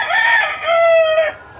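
A fighting rooster crows once, loud and close, a drawn-out strained cock-a-doodle-doo with no voices around it.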